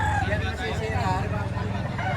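Roosters crow and chickens cluck at a gamefowl market in Lipa, Batangas, the birds close and continuous beneath people talking.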